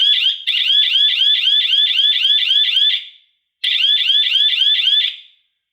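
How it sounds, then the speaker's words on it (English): A warning horn on an IBEX mini hay baler blares in two loud, close bursts, a harsh pulsing electronic beep lasting about three seconds and then under two, separated by a short silence. "when this thing here comes in contact with this here, the horn goes off"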